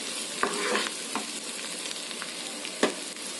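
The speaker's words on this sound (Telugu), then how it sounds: "ఇప్పుడు ఇవి మనం లైట్ గా ఫ్రై చేసుకోవాలి" Onions and a few cut green chillies frying lightly in a pan for idli Manchurian, a quiet steady sizzle with occasional scraping stirs and a couple of sharper knocks against the pan.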